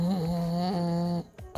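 A narrator imitates loud, deliberate snoring with her voice, one long drawn-out nasal snore followed by a short breathy catch, close and alone with no other sound.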